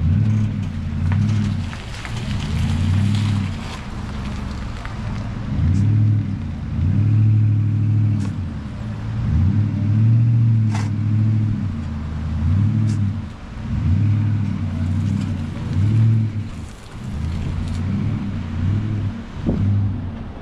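A vehicle towing an RV trailer in San Felipe, Baja California, eases out of a tight spot, its engine rumbling low and steady and rising and falling in repeated surges as it maneuvers.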